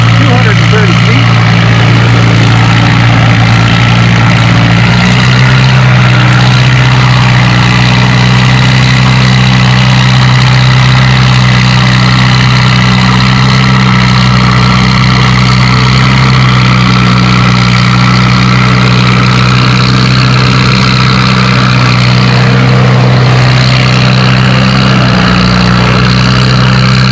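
Pulling tractor engine at a fall tractor pull in Lynden, a steady heavy, loud idling rumble with constant vibration, running on with an announcer's voice over the top.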